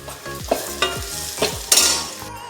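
Onion, tomato and garlic sautéing in a pan sizzle steadily while a spoon scrapes and stirs in several rhythmic strokes, close and fairly loud, with no talking.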